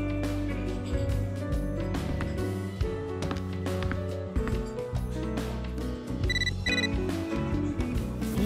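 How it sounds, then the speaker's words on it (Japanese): A cell phone's incoming-call ringtone in Catherine: Full Body sounds as a short, bright electronic ring late in the stretch, laid over steady background game music. "時折携帯電話に着信があるぞ"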